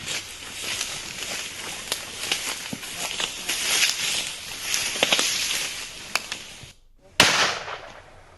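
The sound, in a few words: gunfire during police encounter with criminals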